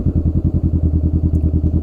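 A Honda Rebel 500 motorcycle being ridden after its 16K service, its engine thumping in a steady rapid pulse, loud and close with no talking.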